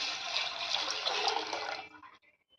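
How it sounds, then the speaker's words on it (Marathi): Water pours steadily into a pan of hot oil with cumin and mustard seeds while Maggi noodles are being made. It runs for about two seconds, then trickles off into quiet. "आता नंतर 2 ग्लास पाणी टाकणार आहे।"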